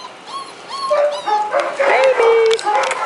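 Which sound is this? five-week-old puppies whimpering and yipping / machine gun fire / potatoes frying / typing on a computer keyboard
five-week-old puppies whimpering and yipping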